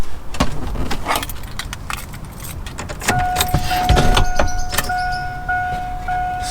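Car keys jangle and clink inside an older car being worked on during a dashboard-cutting job on a Sierra, with faint scraping and a steady tonal whine in the background, no talking.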